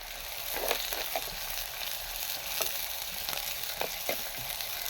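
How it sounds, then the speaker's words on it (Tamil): Chopped onions sizzling in hot oil in a pan while cooking liver gravy, a steady close crackle and hiss with occasional scraping stirs and louder spits. "கொஞ்சம் வெங்காயம் போட்டு தாளிச்சுப்போம்."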